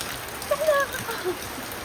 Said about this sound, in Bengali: আর ওই বৃষ্টি হচ্ছে,